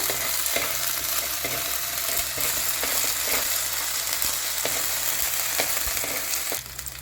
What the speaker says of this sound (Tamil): இஞ்சி பூண்டு பேஸ்ட்டு சேர்த்துக்கலாம் இலையிலே கொஞ்ச நேரம் நல்லா வதக்கி விடுங்க